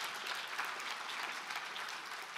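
An audience claps in a dense, steady patter of many hands, even and fairly soft throughout, with no voices over it.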